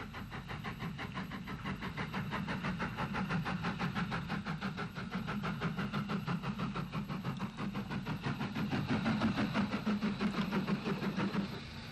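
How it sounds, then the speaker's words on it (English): A big D-class steam locomotive drifts slowly along the line toward Strabane in Ulster with a brake van behind, a low steady chuffing rumble with rhythmic wheel clatter at moderate distance. "A big D drifts lazily towards Strabane with a brake van in tow"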